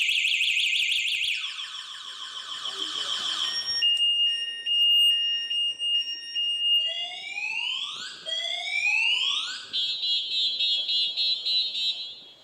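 The anti-theft alarm of an Okla Omigo electric scooter sounds after its tyre is moved while the scooter is centrally locked. It cycles through a sequence of loud, shrill electronic tones: rapid beeps, steady pitches, then rising whoops, with no talk.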